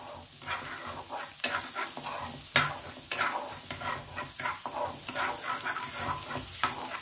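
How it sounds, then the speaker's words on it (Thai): Sliced pork sausage stir-fries in a pan, with a steady sizzle and repeated scraping of a spatula against the metal at an irregular rhythm, close and moderately loud. "ไส้กรอกลงมาผัดก่อนนะครับ"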